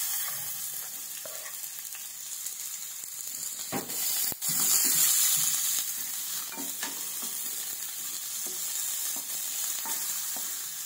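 Garlic and onion fry in a pan with a continuous hissing sizzle that surges briefly as more goes in, and a few scraping stirs and knocks along the way; no one speaks.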